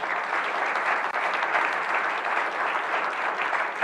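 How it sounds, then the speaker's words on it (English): Sustained applause from an audience at a carbon removal challenge finalist showcase, a steady dense clapping that holds evenly throughout with no voices standing out. "Please give a round of applause for our judges and organizers."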